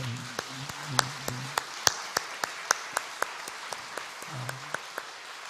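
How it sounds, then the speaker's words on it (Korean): A church congregation at a Thursday dawn prayer service claps for its young people: a thin, sparse patter of individual claps at a loose, steady pace, with a voice briefly at the start and again near the end. "우리 청년들을 위해서 박수 한번 합시다."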